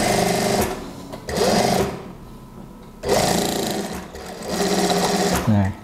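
A sewing machine stitches the shoulder seam of a gamis dress in short, loud bursts of rapid whirring. The bursts are separated by quieter gaps, and a voice is faintly present.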